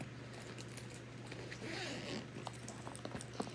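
A zipper on the main compartment of a Ju-Ju-Be BRB diaper bag is pulled down all the way in one steady rasping run. A steady hum sits underneath, with a few small taps near the end.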